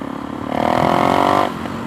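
A Suzuki DRZ 470 motorcycle engine with an FCR 39 or Lectron carburettor is opened to wide open throttle, a loud, close, buzzing roar swelling for about a second before dropping back.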